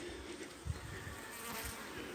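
Honeybees buzz at their hives in a faint, continuous hum of many wings, close but soft, with no voices.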